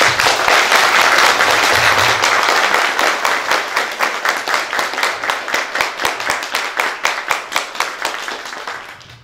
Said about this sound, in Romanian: să-i aplaudăm încă o dată